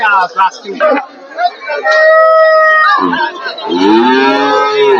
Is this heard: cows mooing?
yes